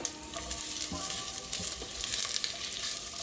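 Chopped onions, about five of them, sizzle and fry in olive oil in a pot, a soft steady crackle with occasional stirring clunks, fairly quiet and close.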